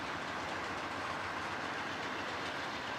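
BNSF freight cars loaded with scrap iron roll past in a steady, close rumble with faint clickety-clack of wheels over rail joints, continuous and unbroken throughout.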